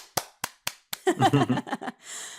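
Several sharp, isolated hand claps ring out, then a voice mimics a burst of clapping with mouth sounds before a faint hiss trails off.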